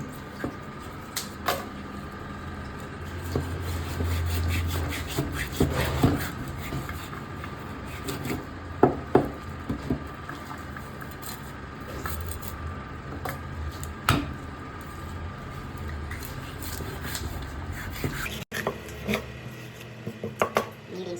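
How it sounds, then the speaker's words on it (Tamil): Knife cutting and cleaning a fresh black pomfret of about one kilogram: scattered scraping, rubbing and sharp tapping strokes on a board, fairly close and moderately loud, with no talking. "கருப்பு ஆவல் தான் கட் பண்ண போகிறோம்"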